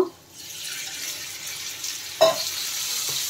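Water poured into a pan of spices cooking with ginger, sugar and salt for a banana-flower fritter curry, giving a soft steady hiss and sizzle with a brief splash near the end, no talking.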